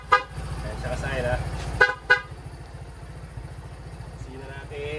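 Two quick motorcycle horn beeps ring out over its steadily idling engine, close by, with the engine hum continuing afterward.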